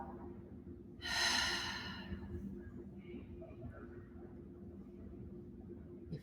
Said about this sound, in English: A full deep breath in. Big, complete breath out.